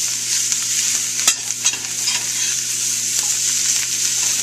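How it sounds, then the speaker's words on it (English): Beef and bell pepper sizzle in a hot pan, a steady bright frying hiss with scattered scraping and clinking taps as the mixture is stirred, with no talking. "I've pre-added the beef, now I'm adding the bell pepper. You can kind of hear that sizzling."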